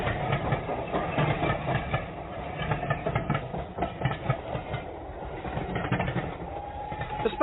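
A train passing on a railway line close to a back garden, a continuous rumbling roll with faint rhythmic clatter that stays steady and fairly near throughout, with no speech.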